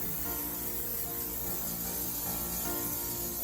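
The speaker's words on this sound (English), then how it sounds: "I'm gonna give these a really good spray." A steady, continuous hiss of an aerosol cooking spray, close up and unbroken for a few seconds, with no talking.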